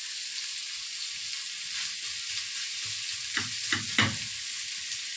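Onion and garlic sauté in hot oil in a pan, a steady bright sizzle throughout with a few stirring scrapes near the end, no voices.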